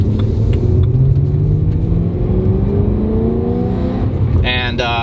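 A BMW E92 M3 drives along a side road, its engine droning steadily with rising tones as it accelerates, a loud continuous rumble filling the cabin.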